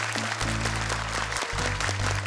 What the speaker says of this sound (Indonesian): Yuk tepuk tangan untuk mamanya Fahri.